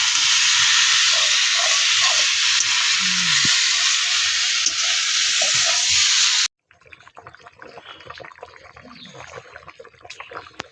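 Ghee hisses and sizzles loudly in a hot pan of prawn malai curry for several seconds. The sound then cuts abruptly to a quieter kitchen bed with faint clinks.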